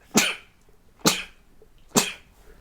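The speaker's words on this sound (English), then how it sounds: "I might have to sneeze." Three sharp, explosive sneezes or sneeze-like bursts come close and loud, spaced about a second apart, each ending quickly in quiet.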